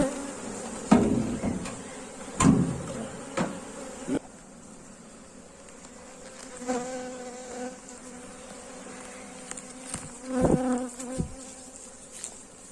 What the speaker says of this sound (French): les abeilles bourdonneuses donc qui pondent mais qui sont pas des reines